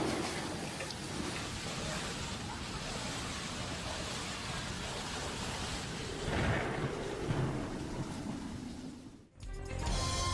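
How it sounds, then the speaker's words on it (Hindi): Heavy rain pours steadily over Dubai near the Burj Khalifa while thunder rumbles low beneath the downpour, a continuous wash of rain with a swelling roll of thunder before a brief drop. "बुर्ज खलीफा में भी बारिश के दौरान आसमानी बिजली कड़कती देखी गई"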